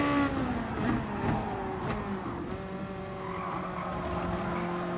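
A race car in GT Sport oversteers on a corner exit during an FIA Nations Cup exhibition race, tires squealing and skidding under a rising, revving engine drone, loud and close throughout with no talk.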